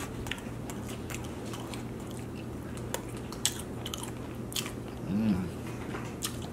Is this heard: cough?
no